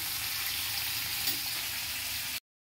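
Food sizzles steadily in a pan over low heat, a close, even hiss of frying oil that stops abruptly near the end.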